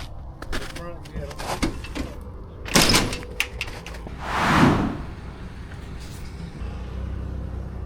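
A door in a large old Detroit house for sale is swung shut, a broad whooshing thud in the middle of the clip, with people talking before and after it.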